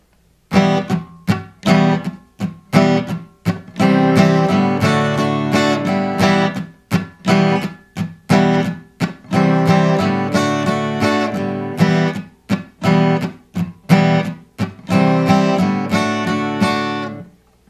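An acoustic guitar strums a song's rhythm, loud and close, with choppy up-down strokes broken by muted gaps and a steady repeating pattern across C and other chords.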